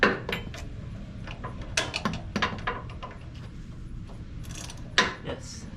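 Ratchet wrench with a 17 mm socket working on the crank pulley bolt of an old kei truck: close, intermittent metallic clicks and clanks with short pauses between bursts.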